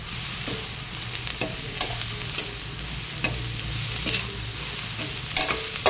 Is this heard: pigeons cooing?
no